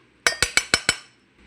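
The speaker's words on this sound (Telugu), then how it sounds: "మూత పెడుతున్నాను" A metal pressure cooker lid clinks sharply five times in quick, even succession while being set in place over cooking tomato dal, close and clear against a quiet background.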